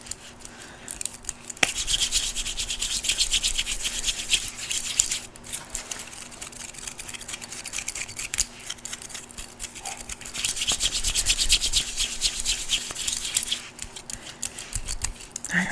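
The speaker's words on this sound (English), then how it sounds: "We're just kind of rubbing the hips area, you know, scratch and rub kind of deal right around." Fast, aggressive scratching and rubbing massage around the hip area, dry brushing and rasping strokes in irregular bursts, close and fairly quiet, with no speech.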